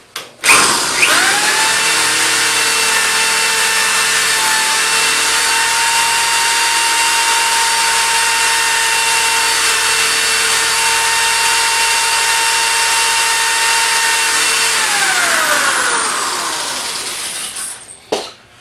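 Power drill boring steadily through the hardened steel crescent of a Medeco high-security lock, a loud, sustained high-pitched whine that holds for about fifteen seconds before spinning down, with no talking.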